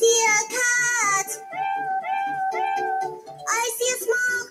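A cat meows again and again in a series of drawn-out, wavering cries, loud and close, each call rising and falling in pitch with short gaps between them.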